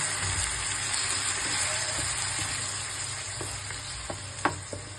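Ground tomato goes into hot oil with fried ginger garlic paste for a cabbage kofta curry, giving a steady, close sizzling hiss with a few sharp pops and utensil clicks toward the end.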